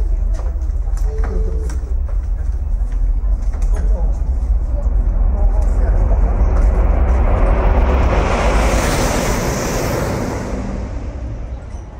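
A maglev test train on the Yamanashi test line rushes past outdoors at high speed, a rising roar and broad whoosh swelling to a loud peak then fading, over steady background rumble and some nearby chatter.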